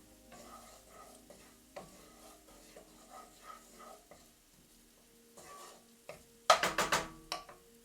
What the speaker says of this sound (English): Sauteing onions.